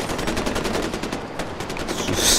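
Rapid automatic gunfire in the video game Far Cry 4, dense bursts of repeated shots firing close and loud with no pause, heard without talk.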